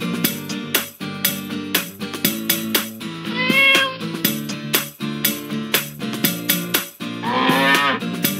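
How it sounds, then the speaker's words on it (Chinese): Calf mooing twice, a drawn-out low moo then a second longer one, set into a bouncy, rhythmic children's song with no singing. "小牛小牛哞哞哞"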